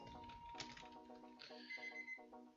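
A timer alarm beeps in a repeating electronic ringing pattern, with evenly spaced bursts sounding close and clear in a quiet room.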